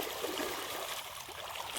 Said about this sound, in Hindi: ये ट्यूबवेल में से जोड़ के पाइप आ रखा है